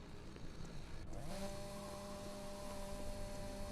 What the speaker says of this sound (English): I feel like I hear a chainsaw behind me.